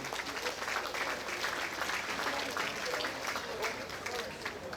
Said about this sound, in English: Can we get a round of applause for Mr. Carey and everyone who made that very show happen?